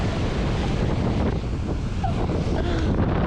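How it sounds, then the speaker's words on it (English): Big North Sea waves roll and crash under strong wind, the broad rushing roar steady and loud throughout with heavy wind buffeting against the microphone. "These waves are getting bigger and bigger."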